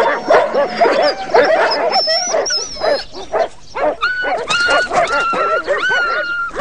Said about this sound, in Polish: Biedne psy.